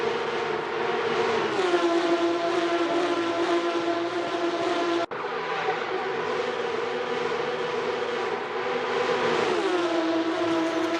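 Race car engines roar in an Assetto Corsa race at the Mexico City circuit as cars run wheel to wheel down the start-finish straight, a loud sustained whine with steady pitch, a brief gearshift dip midway, then rising revs again.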